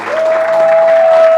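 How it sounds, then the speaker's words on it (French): An audience in church breaks into applause and cheering at a fasting conference closing, a brief dense burst of clapping with a sustained tone running through it. "Est-ce qu'on peut acclamer le Seigneur?"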